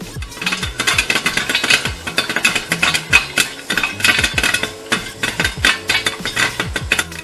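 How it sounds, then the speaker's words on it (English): Popcorn kernels pop in oil inside a covered pan, a dense, continuous rattle of sharp pops and lid clatter that carries on steadily throughout. "When you hear them popping"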